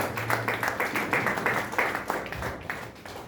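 A church congregation claps and applauds in a steady crowd patter, with a low hum and faint voices mixed in throughout.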